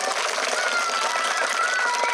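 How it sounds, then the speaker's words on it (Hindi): An audience claps for a small child, a dense steady patter of many hands filling a short burst at a lively, even level. "इस बच्चे के लिए ताली बजाइए आप सभी"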